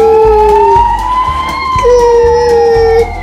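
A toy police car from an emergency vehicle set wails its electronic siren close and loud in a two-tone rising and falling pattern, with a light clatter of toy wheels under it.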